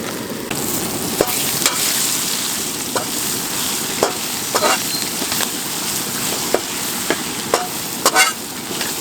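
Ginger-garlic paste fries in a pan for Pallipalayam chicken fry while a spatula stirs it, making repeated scraping clicks at an uneven rhythm over a loud continuous sizzle, close up.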